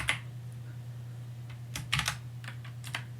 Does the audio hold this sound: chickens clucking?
no